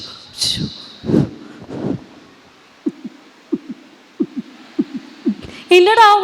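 A heartbeat sound effect thumps in a steady run of soft, low beats, bracketed by brief voices and sounds at the start and end.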